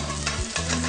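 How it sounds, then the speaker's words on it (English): Garlic sizzling in a tablespoon of hot oil in a pan for sweet and sour pork, a loud, dense, close crackle that holds steady through the whole brief moment. "add in 1 tablespoon of oil. And put on in your garlic."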